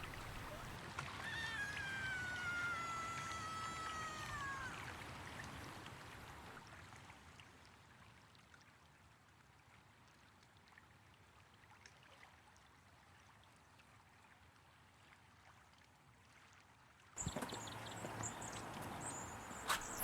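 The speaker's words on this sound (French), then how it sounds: "Juste le bruit du ruissellement" A small stream trickles softly in the open, a faint steady watery wash lasting throughout, with a high chirping call early on and a sharper rustling burst near the end.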